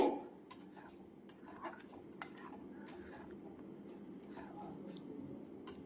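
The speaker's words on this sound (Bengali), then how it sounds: "এটা আমি কিন্তু নাড়তেই থাকবো আর এটাকে আমি কোনো সময় বন্ধ করব না তাহলে নিচে লেগে যাবে" Jaggery and coconut mixture being stirred steadily in a pan, with soft scraping and clinking of a utensil against the metal over a low, constant background hum, no talking.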